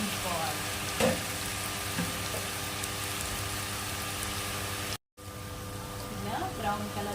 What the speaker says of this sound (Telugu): వీటిని బ్రౌన్ కలర్ వచ్చేంత వరకు వేయించుకోవాలి.